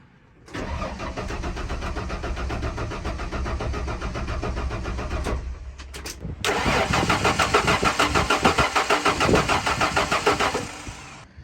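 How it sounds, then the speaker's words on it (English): The 4.9L engine of a 1994 Ford F150 truck with a no-spark fault cranks over with a fast rhythmic churning for several seconds, pauses briefly, then cranks again without catching, close and loud. "let's see if the truck will start now, since we had a no spark situation before."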